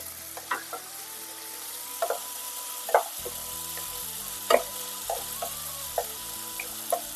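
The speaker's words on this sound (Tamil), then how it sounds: "புதினாவை இதில் சேர்த்து வதக்கி விட்டுக்கலாம்." Curry leaves and chopped mint sautéing in a pan for Saidapet-style vada curry, a steady sizzle with several sharp spatula scrapes and taps at irregular intervals, close and alone without talk.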